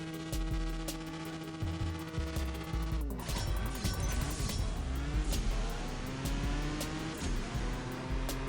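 A Continental GT in the racing game CSR2 accelerating hard, a loud steady engine roar with rising pitch that drops sharply at a gear change about a third of the way in, then climbs again with faint tire noise.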